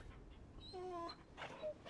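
Torgal, the dog companion in Final Fantasy XVI, whimpers in a few soft, high, wavering whines, brief and fairly faint, with no one talking over them.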